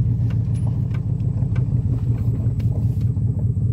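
A 1991 Chevrolet Silverado pickup drives along with a loud, steady low engine rumble and road noise inside the cab, with faint clicks and rattles over the drone.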